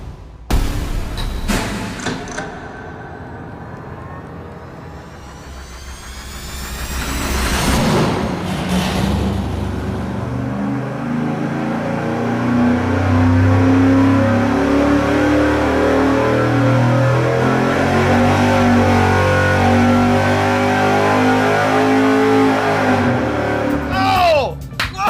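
A nitrous-fed 305 cubic inch Chevy V8 on an engine dyno roars loudly under sustained load for a long stretch, following brief clunks and a short burst, with people talking over the noise.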